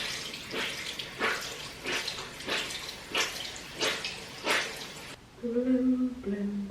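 Water sloshes and splashes in a series of short, regular bursts as a makeup sponge is wetted under running water, close and moderately loud, with a faint voice near the end.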